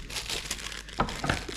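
Plastic packets of fried rice are cut open with scissors, giving close, continuous crinkling and rustling. A couple of sharper snips or crunches stand out near the end.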